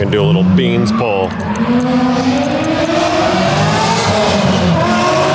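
An LS3 V8 car with a supercar-style exhaust accelerates hard at full throttle in a loud, rising howl that stays close and continuous, with voices over the opening moments.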